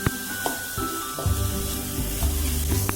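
Vegetable momo filling frying with soy sauce in a home kitchen pan, a steady close sizzle with stirring scrapes and clatters through the sound.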